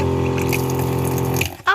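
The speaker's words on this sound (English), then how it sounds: "it's connected to a 12-volt pump. Right here, we push this button and go ahead and show them the water, Willow." A 12-volt water pump in a DIY converted van runs a faucet, its steady motor hum under flowing water for over a second before it cuts off and a short knock follows.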